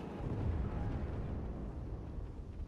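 A grenade explodes in the Battlefield 4 multiplayer game, a deep, rumbling blast that swells and rolls on for a couple of seconds, fairly quiet and muffled, with no voices.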